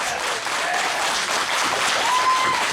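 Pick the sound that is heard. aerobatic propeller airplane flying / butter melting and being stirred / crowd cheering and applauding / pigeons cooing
crowd cheering and applauding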